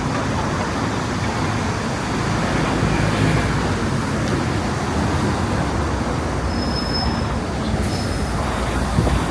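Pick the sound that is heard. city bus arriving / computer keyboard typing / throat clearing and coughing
city bus arriving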